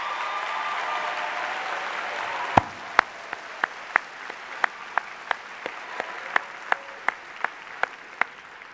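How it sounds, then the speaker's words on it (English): Applause from a graduation crowd at a law school ceremony starts as a dense wash, then thins into a string of sharp, evenly spaced claps over the remaining seconds. "I want you to all give your loved ones who are here a well-deserved round of applause"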